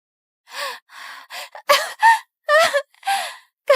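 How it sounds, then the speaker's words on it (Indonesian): A distressed woman in a drama scene takes around eight sharp, ragged gasps for breath, loud and close, spaced unevenly with brief silences between them. "Kakak, aku susah napas."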